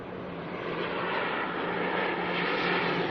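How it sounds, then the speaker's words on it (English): An ATR turboprop airliner arriving at Auckland Airport from New Plymouth, giving a continuous propeller-engine drone with a low steady hum that swells a little louder as it approaches. "we've got an ATR here coming in from New Plymouth"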